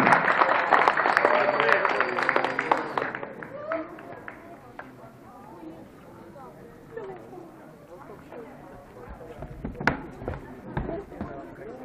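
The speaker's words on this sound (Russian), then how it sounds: "Аплодисменты второй паре финалистов." A crowd applauds finalists at a 3x3 speedcubing competition final. The clapping is loud and dense for about three seconds, then fades quickly, and a voice talks over the quieter room afterward.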